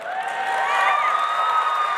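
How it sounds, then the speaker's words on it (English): Live audience at a comedy podcast taping breaks into applause, cheers and whoops, a dense, loud crowd swell lasting a couple of seconds with no talk over it. "Hey, yeah, round of applause"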